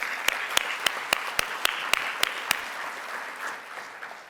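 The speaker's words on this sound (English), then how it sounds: "Let's give them a round of applause." Audience applause, with sharp, evenly spaced claps standing out over a softer wash of clapping that fades toward the end.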